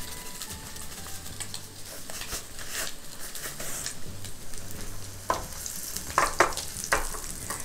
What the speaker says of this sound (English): Now, when we're frying our salmon patties,